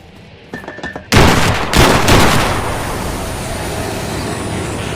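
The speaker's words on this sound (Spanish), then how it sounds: "Las explosiones iluminaron el área, envolviendo a las fúngicas aberraciones en llamas blancas que cesaron su embestida" A burst of phosphorus grenade explosions in a zombie horror audio drama, opening with a few small clicks before a loud sudden blast at about one second, a second heavy boom soon after, then a long roaring, crackling fire that lingers.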